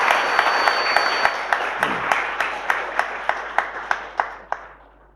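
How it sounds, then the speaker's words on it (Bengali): An audience at a cultural program bursts into sustained applause after a student performance, with dense clapping that carries sharp, regular louder claps and fades toward the end. "সবাই আমি অনুরোধ করব আপনারা জোর করে একটা হাততালি দেবেন।"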